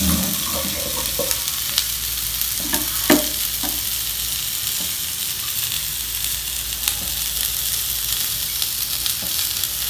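Spicy coconut chutney sizzles in a pan while it is stirred, with a steady hiss of frying and occasional scraping and clinking of the spoon against the pan.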